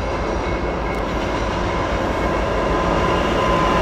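An eastbound CN intermodal and autorack freight train led by two locomotives rumbles steadily past Bayview Junction in Hamilton, Ontario, a loud, continuous roar of wheels and cars close by, with no voices.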